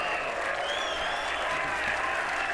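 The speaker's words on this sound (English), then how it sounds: "that probably got the biggest cheer of the day" A snooker crowd at the Saudi Arabia Snooker Masters 2025 final bursts into sustained loud applause and cheering after a shot, a dense even roar of clapping throughout.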